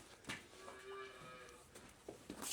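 A dairy cow gives a single clear moo in an old milk barn during winter storm preparations, with scattered clanks and shuffling around it and no talk.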